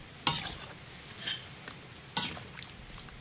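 Papaya and stock cubes go into a pot of chicken tinola, giving a soft, quiet simmer and stir with a couple of sharp clinks of a utensil against the pot, no talking.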